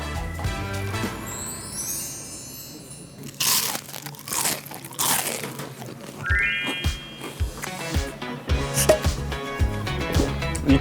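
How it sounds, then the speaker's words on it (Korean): Crunchy fried chili chicken is bitten and chewed up close, giving loud, crackling crunches in irregular bursts with brief pauses between bites. "치킨집은 여러분들이 이제까지 무엇을 먹었던 간에 그 어떤 치킨보다 바삭해요"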